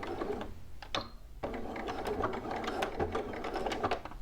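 A home sewing machine back stitches near a zipper on shorts or pants fabric, a close, steady mechanical whir with rapid needle clatter that pauses briefly near the start before running on.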